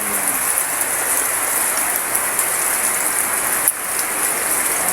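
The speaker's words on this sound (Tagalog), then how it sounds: "Hindi yan titila kasi rainy day na talaga." Steady heavy rain falls on a rainy day in a rural area near a highway, a dense even hiss without voices, with one brief dip partway through.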